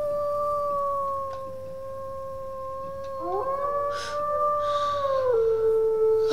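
Long tonal wolf howl in the WolfQuest video game, a sustained wavering note joined midway by a second overlapping howl that rises and then drops, over quiet game ambience.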